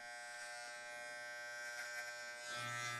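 An electric hair clipper buzzes steadily as it shaves a boy's tapered haircut, a close, even motor hum with slight changes in pitch as it moves, growing a little louder near the end, with no talking.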